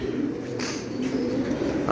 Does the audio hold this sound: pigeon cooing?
yes